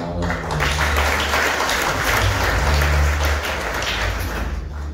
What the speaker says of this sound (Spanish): Démosle palmas a la palabra